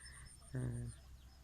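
A single brief chicken cluck stands out over a quiet background hum, with faint voices nearby.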